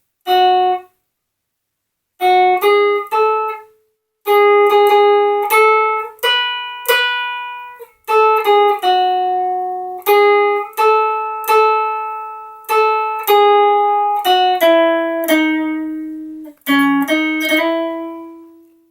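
The American national anthem picked slowly on guitar, single plucked notes ringing out one after another with short pauses between phrases, clear and close with no voices.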